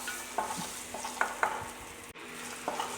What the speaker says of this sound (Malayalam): ഒരു പത്ത് പതിനഞ്ച് ചെറിയ ഉള്ളിയുണ്ട് അപ്പോൾ അതൊന്നിട്ട് നമുക്ക് ഈ എണ്ണയിലേക്ക് തന്നെ വഴറ്റിയെടുക്കാം